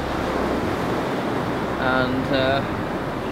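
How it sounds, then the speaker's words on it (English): Ocean waves on a volcanic black-sand beach in Iceland, a loud continuous wash of surf mixed with wind noise, with two brief spoken syllables over it. "the waves seem to be getting a little rougher"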